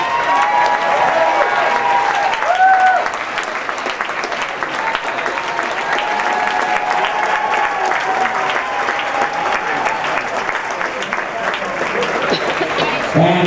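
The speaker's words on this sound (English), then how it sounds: "Great round of applause for Mr. Stephen Knight." Sustained applause from an audience at the close of a dancesport championship show, a dense and steady wash of clapping with some crowd noise throughout.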